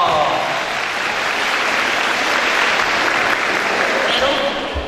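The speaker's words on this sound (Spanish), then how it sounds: "¡Aplauso!" An outdoor crowd at a Día de Reyes festivity in Ozuluama, Veracruz, claps in a sustained, even roar of applause for a municipal president's arrival, with voices mixed faintly underneath.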